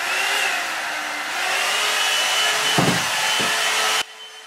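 Revlon One-Step hair dryer running, a steady airy whoosh with a motor whine and a couple of brief bumps, then switched off near the end.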